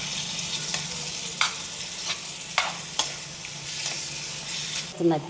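Chicken pieces stirred and fried in a pan for gongura chicken fry, a steady sizzle with several scraping clicks of the spoon spaced through it, close and moderately loud, no voices.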